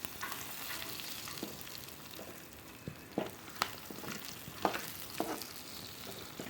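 Pirandai (veldt grape) sautéing in a pan for chutney, a soft, quiet sizzle broken by occasional scrapes and taps of a spoon stirring, heard alone without voices.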